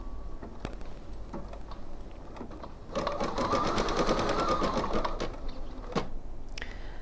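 A home embroidery machine stitches out a design on a make-up brush holder project: a few isolated ticks, then a fast steady run of needle strokes with a mechanical whir, ending with a couple of separate clicks.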